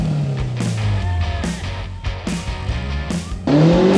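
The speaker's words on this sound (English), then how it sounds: "basically just gonna leave it in first and let off the clutch, and then just give it a little bit of gas and then let it do the rest of the work" Toyota off-road vehicle with big tires pulling away in first gear at a Toyota Jamboree trail event, a steady low engine drone with a few sharp bursts and a louder surge of revs near the end.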